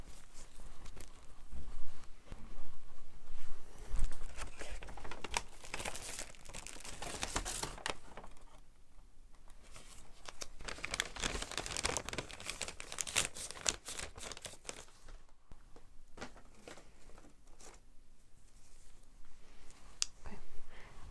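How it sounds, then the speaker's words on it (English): Plastic evidence bag crinkling close up during a forensic hair-sample collection, with a steady run of soft rustles and small clicks and no talk. "I'm going to go ahead and bag this for evidence."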